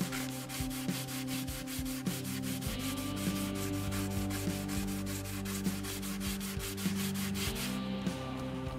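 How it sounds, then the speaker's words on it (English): Steady hand sanding with a flat block and 220-grit sandpaper on a Telecaster guitar headstock, repeated back-and-forth strokes under a constant background hum. "Let's use that flat sanding block to sand off the finish on the headstock."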